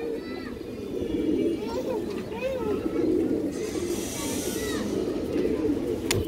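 Pigeons kept for sale coo in a dense, continuous chorus of many birds, close and loud, with people talking over it and a faint high hiss in the middle.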